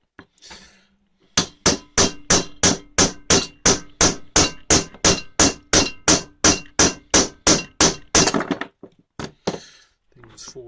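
A hammer pounds a drift to free a stuck brake cylinder on a classic Mini, in about twenty loud, evenly spaced metallic blows, followed by a few scattered knocks.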